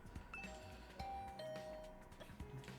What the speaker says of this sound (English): I rang the doorbell to Tsubasa's room.